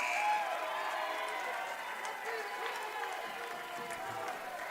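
Men's college basketball crowd in a gym cheering after an alley-oop dunk, a steady wash of applause and cheering that stays loud, then eases slightly as the moment passes.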